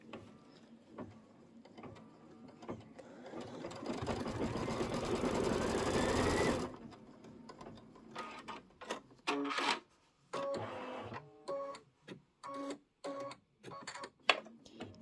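An embroidery machine stitches a Kimberbell seasonal table runner, running as a loud steady whir for several seconds before breaking into short bursts of stitching with pauses between them.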